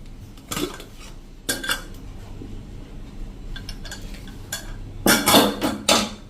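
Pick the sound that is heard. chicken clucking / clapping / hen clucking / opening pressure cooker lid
opening pressure cooker lid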